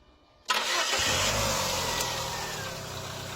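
A car engine cranks and catches, then settles into a steady idle, loud and close with no voices, during a full cooling-system flush and coolant change.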